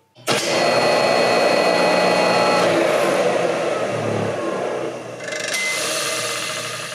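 An air compressor motor with its belt removed starts abruptly and runs with a loud, steady whir. A distinct click from its centrifugal switch comes early on, and the drone carries on to the end.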